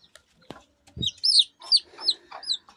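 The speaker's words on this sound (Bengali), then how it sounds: "বারবার চলে আসছে এই মুরগিটা কামড় দেওয়ার জন্য" A backyard hen clucks close by in short, repeated bursts after a couple of soft knocks, with the calls rising and falling over about three seconds and no talking.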